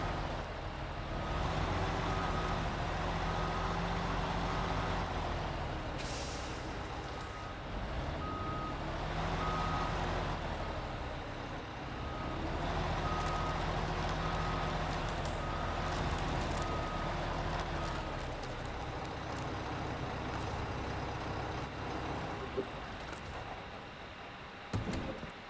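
A truck reverses during a container recovery job, its steady reversing beeper pulsing throughout over a loud, continuous diesel engine drone, close by with no talking.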